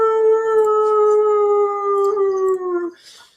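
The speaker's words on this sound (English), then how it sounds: "you can hear a answering howl somewhere off to your left in the distance" A lone wolf-like howl rises and holds as one long, clear, tonal cry, part of a fantasy tabletop-adventure ambience, and then fades away.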